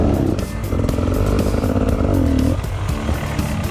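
An enduro motorcycle engine burbles and revs unevenly at close range as the rider lines up a tight turn on rough ground, with short blips of throttle rising and falling.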